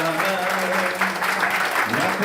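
A church congregation claps along in a steady rhythm throughout, with singing and voices layered over the clapping.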